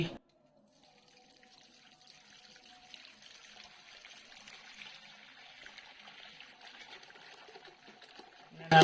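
Watermelon juice, mixed with ice, is poured from a vessel into a container, giving a steady trickling, splashing stream that runs for several seconds at moderate volume, with a sharp knock at the end.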